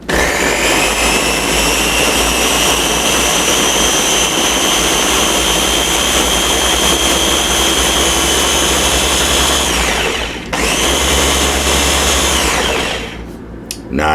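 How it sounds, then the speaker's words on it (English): A bullet blender motor whirs loudly and steadily as it purees strawberries and ghost peppers, running continuously for about ten seconds, briefly cutting out, then revving again before winding down, with no talking. "Go ahead and put the bullet motor on and let her rip."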